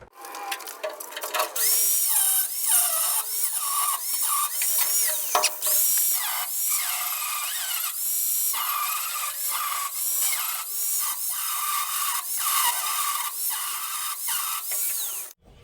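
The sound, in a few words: power tool cutting slots in bolt heads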